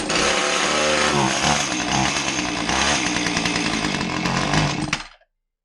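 A Husqvarna 450 chainsaw, diagnosed as running backwards, roars loud and steady at close range for about five seconds, its engine note wavering slightly, then cuts off abruptly into silence.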